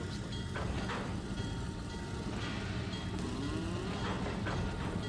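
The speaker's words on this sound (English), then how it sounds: "I hear cows." Cattle moo a few times at a moderate distance in the video game Trainz 2022, over a steady rumbling train-like background, with no talking.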